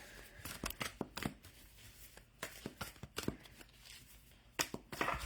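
Tarot cards are shuffled by hand in a quick series of soft riffles and sharp flicks and slaps, close and fairly quiet, with uneven bursts and no talk.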